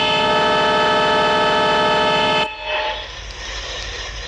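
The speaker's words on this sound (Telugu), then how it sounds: "హారన్ వినండి." A locomotive horn in a train driving video game sounds loud and sustained for about two and a half seconds, then cuts off abruptly, leaving a lower engine rumble and faint cab noise.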